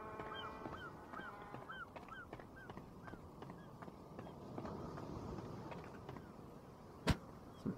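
Birds honk repeatedly in The Forest video game (Early Access), goose-like calls in a steady series over continuous ambient noise, with a sharp thud near the end.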